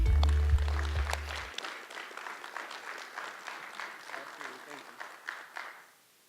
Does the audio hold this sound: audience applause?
yes